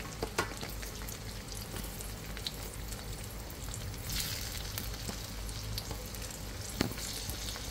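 Chicken and mushrooms frying in a pan, a steady, fairly soft crackling sizzle with scattered sharp pops throughout.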